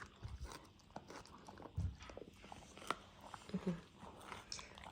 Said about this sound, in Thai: นางเก็บชิ้นเล็กชิ้นน้อยกินเรียบ